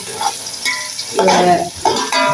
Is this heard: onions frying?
yes